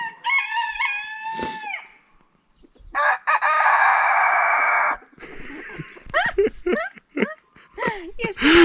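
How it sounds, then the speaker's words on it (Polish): Silkie chickens cluck and squawk close by in short bursts, with a rooster-like call and people chatting and laughing around them. "Zostawcie łapki w górę za kurę jedwabistą."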